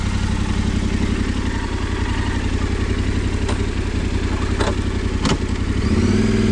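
A Yamaha Tenere 700 adventure motorcycle engine runs steadily at close range with a low, throbbing rumble, rising slightly toward the end as if pulling away.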